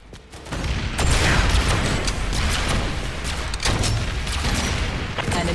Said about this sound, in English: Switch to your rocket launcher and take them out.